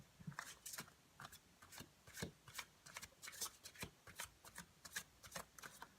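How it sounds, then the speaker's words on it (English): A deck of oracle cards is shuffled by hand, producing quick, soft papery riffles and slaps in an uneven rhythm, close and quiet with no talking. "Let me get an oracle card to sum this up for you."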